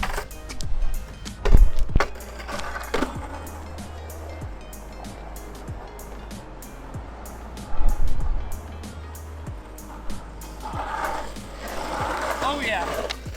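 Holar longboard on freshly swapped wheels and Bones bearings rolling over pavement, a steady gritty rumble with periodic clacks from cracks in the surface, swelling louder around a few bumps and carrying on throughout.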